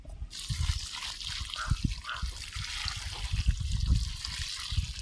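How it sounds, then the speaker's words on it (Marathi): Water trickles and splashes in uneven bursts, poured close by into a soil-filled tree planting pit with a soft gurgling into loose ground. "तर आता याच्यामध्ये आपण पाणी टाकून देऊ"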